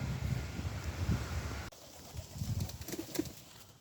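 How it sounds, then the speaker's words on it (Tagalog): Pet pigeons gather to look for food, soft cooing and wing flutters close by over a low background rumble. "Andito na naman yung mga ibon ko at naghanap sila ng pagkain"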